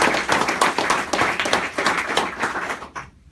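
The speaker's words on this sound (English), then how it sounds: "Would you give them a round of applause, please?" A news conference audience claps for the event chairs at a Key Bank platinum donation announcement: dense, steady applause from a room of people that thins and fades out near the end.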